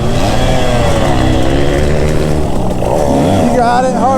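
A 125cc dirt bike engine, KTM or Husqvarna, revs hard and loud on the throttle, a sustained buzzing drone that wavers in pitch, with talking over it.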